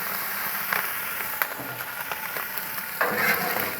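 Potatoes and sausage fry on a Blackstone griddle with a steady soft sizzle, while a spatula stirs them in a few scraping, clicking strokes nearby.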